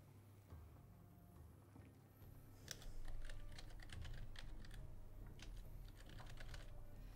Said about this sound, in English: I'm mistyping everything